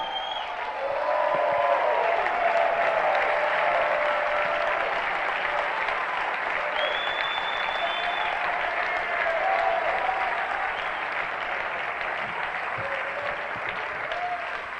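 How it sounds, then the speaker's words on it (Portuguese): Sustained applause from a church congregation during a Feast of Tabernacles worship service, a dense steady clapping that continues for the whole stretch with some crowd voices mixed in. "Aplaudam aquele que vive."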